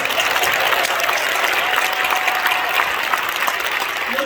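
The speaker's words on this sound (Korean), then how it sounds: "사모님께 박수 한번 치시다." An audience claps for the pastor's wife at a Korean church inauguration ceremony for a regional council president, a dense and steady round of applause heard close and alone throughout.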